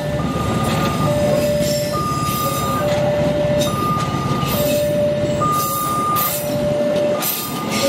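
A train rolls through a railway station with a loud, continuous rumble and wheel noise, while a two-tone alternating electronic chime repeats steadily over it.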